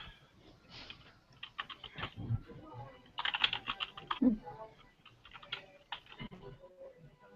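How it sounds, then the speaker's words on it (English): Someone types on a computer keyboard in quick irregular bursts of clicking keys, heard close by with voices talking around it. "who's typing?"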